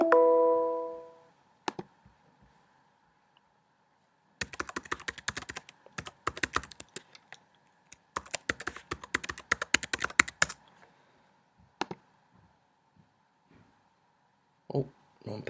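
Fast bursts of typing on a computer keyboard while logging in to an office products storefront, close crisp clicks in several clusters separated by pauses, with a brief tone at the very start.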